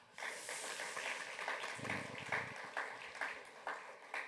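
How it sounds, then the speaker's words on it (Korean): A congregation at a university chapel worship service applauds together, with rhythmic, somewhat quiet clapping from a crowd that holds steady for a few seconds, heard at a distance in a large room. "여러분 먼저 박수 한번 하겠습니다."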